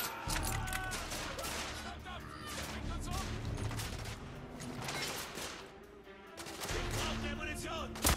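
Gunfire in the action game The Order 1886, dense rapid volleys of shots crackling over a rumbling backdrop, with a brief lull before the firing resumes.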